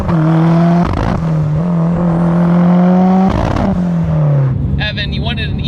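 A Mitsubishi Evo 3 engine, a 7-bolt 4G, revs loudly and steadily with a rising and falling pitch, then drops to idle, while people talk over it.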